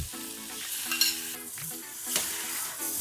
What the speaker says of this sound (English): Now mix this well.